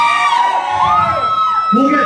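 A concert crowd at a show roars, cheers and shouts loudly, with whoops and yells layered over a sustained wall of voices.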